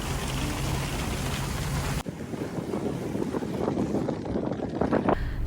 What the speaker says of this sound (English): but it is pouring